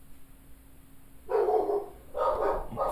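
Dogs bark indoors in a few short bursts, moderately close and clear, with quiet room tone between them.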